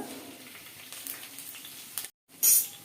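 Thinly sliced green chillies fry in oil in a pan while cooking a drumstick-flower egg curry, giving a soft, steady sizzle close by. A brief pause breaks it, then a short, sharper metallic clink follows.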